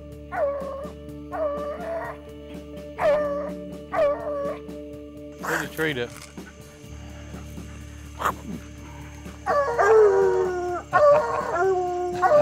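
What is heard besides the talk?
coon hunting dogs baying at a treed raccoon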